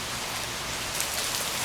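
Summer rain falling in the desert on a 102-degree day: steady, dense hiss of rainfall pattering on surfaces, close and even throughout, with no talk.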